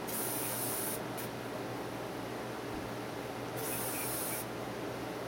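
An aerosol cleaner hisses in two short bursts, spraying 1911 pistol parts, over a steady background hiss.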